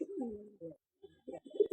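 A pet pigeon perched on someone's foot gives soft, low cooing phrases in short bursts, quiet and close, with brief gaps between calls.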